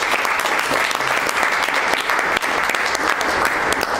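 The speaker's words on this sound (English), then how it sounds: "Big round of applause for our in-house DTM" A Toastmasters club audience at an open house breaks into a big round of applause for its distinguished Toastmaster, steady dense clapping filling the room for several seconds at close range.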